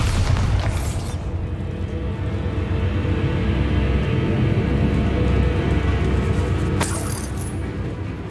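The Bombarda explosion spell in Hogwarts Legacy, a loud booming blast that opens with a crack, rumbles on at full strength for several seconds and ends with a second sharp crackling burst.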